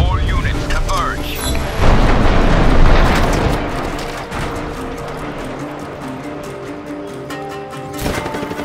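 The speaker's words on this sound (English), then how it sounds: "Rocket launcher is always good" Rocket launcher blasts and gunfire in the Just Cause 3 video game, a loud rumbling boom swelling near the start, then a longer sustained roar of explosions with a fresh blast at the end, speech faintly underneath.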